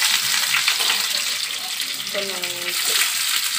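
Garlic and dried red chillies frying in hot oil make a close, constant sizzle with light crackling that holds steady from start to finish.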